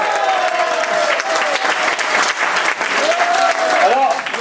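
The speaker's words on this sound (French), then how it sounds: "on peut faire un tonnerre d'applaudissements pour Catherine" Loud, sustained applause from diners at an end-of-year club dinner, a dense wash of clapping that holds steady throughout with voices and cheers rising over it.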